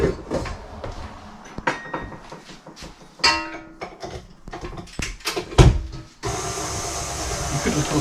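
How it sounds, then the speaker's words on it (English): A stand mixer beats 300 grams of sugar for triple chocolate and oat cookie dough: bowl clinks and clatters as it is set up, then a steady, fairly loud motor whir starts and holds to the end. "so now we put that onto the mixer just to beat that up."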